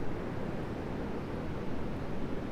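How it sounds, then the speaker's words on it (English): Ocean waves wash onto a beach as a steady, broad rushing roar with gentle swells, close and unbroken, mixed with a little wind and no voices. "You can even turn up the volume to hear the waves."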